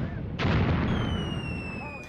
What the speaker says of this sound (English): the artillery is now falling in the vicinity of the T-34s